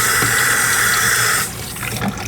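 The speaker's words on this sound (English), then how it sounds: "we're gonna take the machete," A machete swirls through a tub of dye water being mixed for dyeing a wool blanket, giving continuous sloshing and rushing liquid that drops to quieter splashes partway through.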